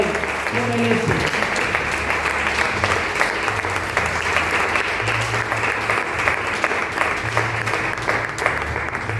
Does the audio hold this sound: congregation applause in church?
yes